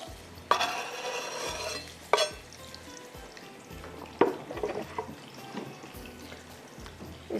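Onions sautéing for a mutton masala gravy, soft sizzling punctuated by a few louder bursts of stirring and scraping in the pan, fairly quiet and close, with no voices.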